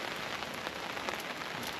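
Steady rain falls at a lakeside campsite in the Boundary Waters, a dense, even patter of drops close by with no talk over it.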